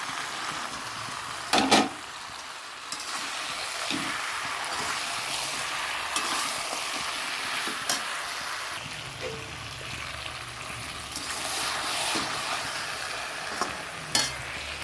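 Chicken and fried potatoes sautéing in spice masala, a continuous loud sizzle with the repeated scrape and clack of a spoon stirring the pan.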